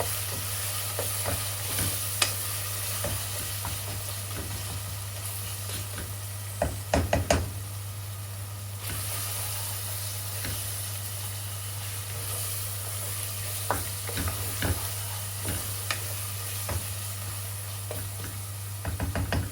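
Beans and spices with ginger and garlic fry in a pan, giving a steady sizzle throughout, broken by frequent scraping and knocking of a spatula as the mixture is stirred.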